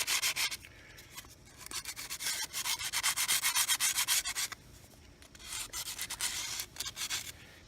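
Sandpaper rubbing back and forth on the delicate fuel sender rod of a Porsche 944, close and steady in rhythmic scrubbing bursts with a brief pause midway, no talking.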